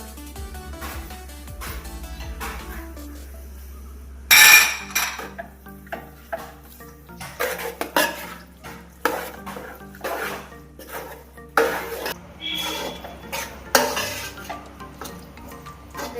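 Chicken pieces going into masala in a cooking pot, heard as a faint hum followed by repeated metal clanks, scrapes and stirring knocks against the pot at close range, with light sizzling between and no talking.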